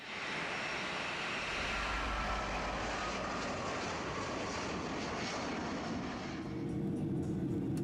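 Steady airliner engine drone heard inside the plane during flight, a continuous broad roar with a low rumble, loud and unchanging for several seconds.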